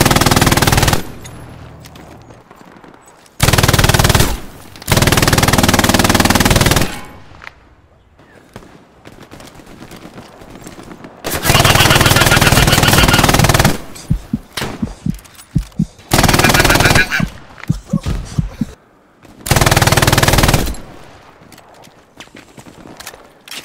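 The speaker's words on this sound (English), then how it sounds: "Heavy machine gun!" A heavy machine gun in the WWII shooter Hell Let Loose fires in loud, sustained bursts separated by pauses, with scattered distant gunfire in the gaps.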